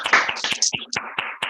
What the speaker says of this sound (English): just give her a clap, give her a pat, give her a scream